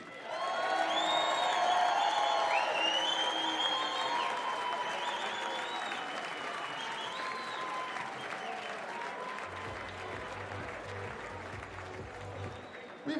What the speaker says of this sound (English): a massive round of applause for your finalist, Ireland's Adam D.